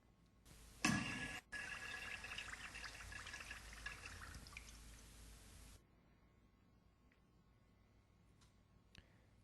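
Water rushes loudly into an AMTC AEF-801 HybridFlush top-mount urinal once its supply is reopened, a sharp burst easing into a steady flow for several seconds before cutting off, leaving faint drips in near silence.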